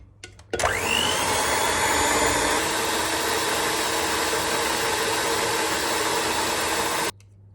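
An electric mixer beating cake batter with melted butter for a plum and kiwi pie whirs loudly and steadily at close range for about six and a half seconds, starting and stopping abruptly.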